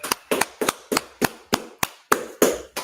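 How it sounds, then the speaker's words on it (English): About ten sharp, evenly spaced claps ring out in a steady rhythm, close and fairly loud, sounding like a small group clapping together in unison with no talk over them. "All right, clap it up."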